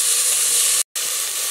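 Garlic and chilli peppers sizzle in a pan as the base for a spicy bean and chorizo soup, a loud, steady hiss broken by one brief gap.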